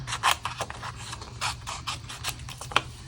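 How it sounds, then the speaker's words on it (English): Scissors cut through paper for a handmade card in a series of close, crisp snips and scraping rustles, irregular in rhythm, with no talking. "I'm just going to do with scissors because nobody's going to see that"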